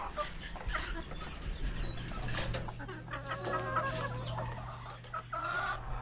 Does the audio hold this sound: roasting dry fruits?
no